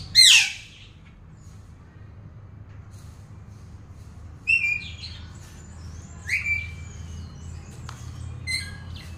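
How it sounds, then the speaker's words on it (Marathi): A parrot in a bird sanctuary aviary cage gives a loud harsh squawk, followed by several shorter chirping calls spaced apart over a low ambient hum. "इथे पोपट ठेवलाय, पोपट."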